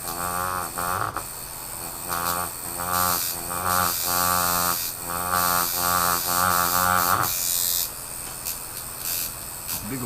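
A tattoo machine engraves a workpiece with a steady electric buzz, broken into short bursts with brief pauses, then a longer continuous run with a shifting, rougher tone near the end.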